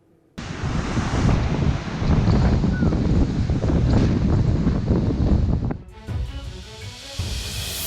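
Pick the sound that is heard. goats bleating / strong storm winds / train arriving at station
strong storm winds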